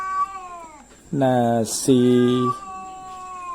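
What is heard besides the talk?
male cats caterwauling while fighting over a female cat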